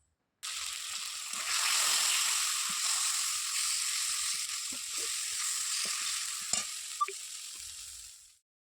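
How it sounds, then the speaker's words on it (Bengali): Spice paste of ginger, radhuni, chili and turmeric sizzling loudly in hot oil in a pan, a steady hiss starting abruptly, with light stirring scrapes and clicks, no talking. "ভালো করে মশলাটা এখন কষাতে হবে, ভালো করে মশলাটা কষিয়ে তারপর সবজিগুলো দেব।"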